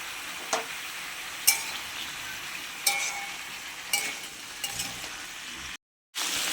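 Carrots, beans and drumsticks sautéing with turmeric and salt in a pan for a festive-style shukto, a steady sizzle with a few distinct stir scrapes spaced about a second apart, then a brief cut to silence near the end.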